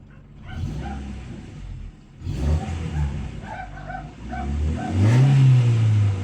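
A Toyota Corolla AE101 with a 4A-FE engine idles, then is revved, the engine note rising and climbing steadily in pitch toward the end, loud and close.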